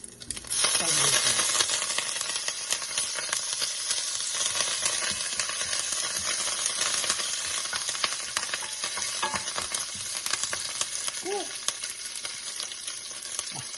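Mustard seeds splutter in hot coconut oil, a loud continuous sizzle with sharp crackling pops and a few metallic clinks of stirring, close up and with no talking.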